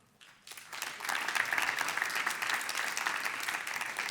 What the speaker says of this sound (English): give me a very warm welcome and a big round of applause for Tim Draper